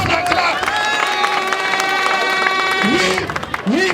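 A crowd at a Nigerian political rally claps and cheers, a loud mix of hand claps, shouts and sustained voices with someone speaking over the din throughout.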